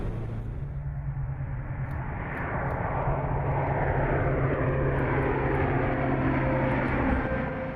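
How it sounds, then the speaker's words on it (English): An Airbus Atlas large cargo plane flies past with a loud, steady broadband roar that swells slightly midway and holds strong to the end, with no voices. "the Atlas is surprisingly agile for a large cargo plane."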